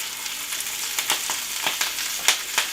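Zucchini and kale sizzle steadily in a hot pan, a close, continuous crackle broken by occasional sharper pops and stirring scrapes, with no talk.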